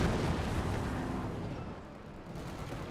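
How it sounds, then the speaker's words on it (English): A Katyusha rocket artillery barrage in Company of Heroes 2 fills the scene with a continuous roar of rumbling explosions that is loud at first and slowly eases off. "Another Katyusha barrage again."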